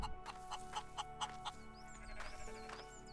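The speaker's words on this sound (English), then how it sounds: "A chicken. There's something we've not killed yet." Chicken in the survival game Rising World clucking and bleating-like calls, a run of short repeated clucks then a softer burst, close and fairly quiet over a steady ambient game hum.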